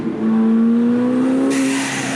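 The engine of a 900 hp McLaren 720S holds a steady rising drone, then a sharp hissing burst of air rushes in near the end, like a turbo blow-off release.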